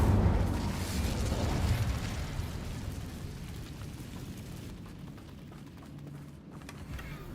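An Incendio fire spell is cast in Hogwarts Legacy, a loud whooshing burst of flame that roars at first and then fades into a softer crackling rumble, with no talk.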